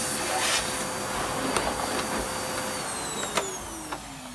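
A vacuum cleaner runs on its low setting, a steady close-up broadband whoosh with a faint tonal whine and a few light knocks as it is pushed, with no talking.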